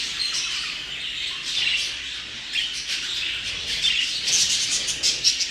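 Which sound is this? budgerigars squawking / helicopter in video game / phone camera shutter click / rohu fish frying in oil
budgerigars squawking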